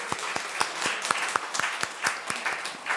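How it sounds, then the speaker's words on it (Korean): A church congregation at a Sunday service claps in encouragement, with distinct, fairly regular claps from a modest group, moderately quiet and spaced like a small, unhurried round of applause. "우리 위로 격려 박수해 주시기 바랍니다"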